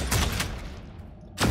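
Gunfire in the Warhammer 40K Deathwatch video game: a short, fairly soft burst of rapid shots at the start, then another burst about a second later.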